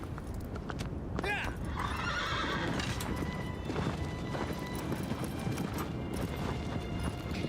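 Horse in Shadow of the Colossus galloping with steady clip-clop hoofbeats under a dense game soundscape, plus a brief whinny early on.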